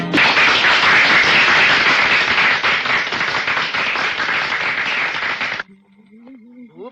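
Dense, loud applause from a crowd of wealthy guests fills a film scene and then cuts off abruptly, leaving a quiet voice.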